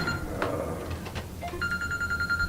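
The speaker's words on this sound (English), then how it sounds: "There goes the phone call." A telephone rings in an office-like room, a repeated electronic trill pulsing steadily in the second half after a few faint knocks and shuffles, with no one speaking.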